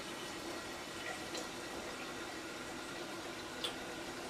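Warm water pours and splashes into a pressure canner during home canning of sauerkraut, a steady, moderately faint liquid fill with no talking.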